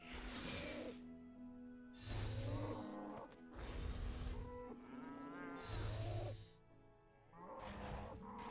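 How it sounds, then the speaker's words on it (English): Cows in RuneScape 3 give several long, low moos in succession, each drawn-out bellow rising and falling with quiet gaps between, faint and alone without speech. "Okay, well, I'm killing cows."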